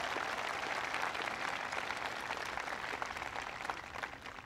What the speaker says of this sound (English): Ed Montgomery, please give Ed a big round of applause.